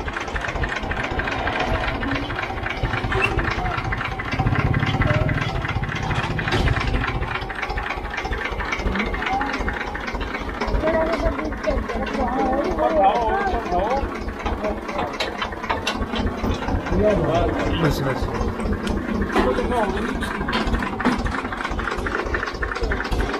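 An Escort 335 tractor used for hauling sugarcane trolleys, its diesel engine running with a steady low rumble and rhythmic mechanical clatter, close by and continuous throughout.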